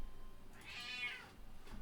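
A pet cat named Thief gives a single drawn-out meow, rising and falling over about half a second, close and fairly quiet over a faint room hum.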